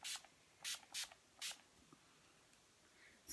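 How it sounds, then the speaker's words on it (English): Four short bursts of fine setting spray misted onto skin in quick succession, then a quiet pause and one final spritz at the end. "spray my skin"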